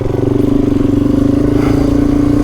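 A motorcycle engine holds steady revs while riding through soft desert sand in the Simpson Desert, a loud, continuous droning hum with a throbbing pulse and no pauses.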